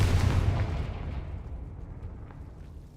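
A Confringo fire spell blast in Hogwarts Legacy opens with a loud, deep explosive boom that rumbles and slowly fades over a few seconds, with no talk over it.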